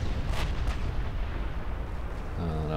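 Secondary guns of a warship firing during a naval battle in Ultimate Admiral Dreadnoughts, heard as a steady wash of booming, rumbling cannon fire with a couple of sharper reports near the start.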